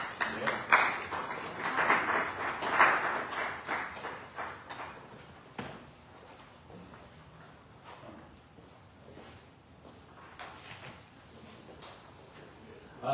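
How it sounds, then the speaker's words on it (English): Audience at a fellowship service applauding, loudest at the start, then thinning out to scattered claps and quiet room noise. "So let's give them a big round of applause."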